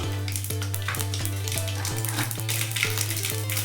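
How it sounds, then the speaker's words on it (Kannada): About a spoonful of small mustard seeds splutters in hot oil, giving a dense, continuous crackle of tiny pops and sizzling close by. A low steady hum runs underneath. "ಸಾಸಿವೆ ಚಟಾಪಟ ಅಂತ ಚೆನ್ನಾಗಿ ಸಿಡಿಬೇಕು"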